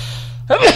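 A single short sneeze bursts out close and fairly loud after a brief hush, lasting a fraction of a second.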